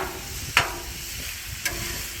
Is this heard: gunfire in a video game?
no